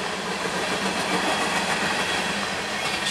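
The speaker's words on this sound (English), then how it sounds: "For that conveyor belt ballast train." A conveyor belt ballast train rolls past at close range, a steady rumbling roar of railcars with rhythmic clickety-clack from the wheels, continuous and unbroken throughout.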